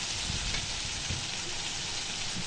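Chopped ridge gourd and shrimp sizzle steadily in a hot pan as they are stirred, a continuous moderate hiss with soft scraping strokes and no voices.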